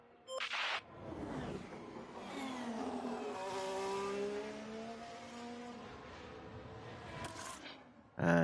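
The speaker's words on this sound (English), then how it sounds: "In the brand new car, Jack Doohan taking it for a spin." Race car engine from the F1 Manager 24 racing game, a loud sustained drone whose pitch rises and falls through gear changes as the car accelerates, with short bursts at the start and end.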